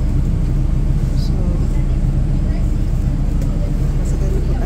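Inside a moving city bus, a loud steady low engine drone and road rumble fill the cabin continuously, with faint higher clatters now and then and no clear talk.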